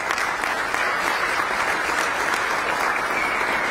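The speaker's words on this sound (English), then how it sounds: "Please give them a round of applause." Steady, dense audience applause at a county State of the County address, loud and unbroken throughout with no speech over it.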